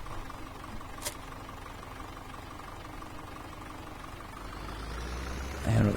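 A small tractor with a front weight idles in Farming Simulator 17, a low, steady engine drone running throughout with a brief click early and a louder rumble swelling near the end.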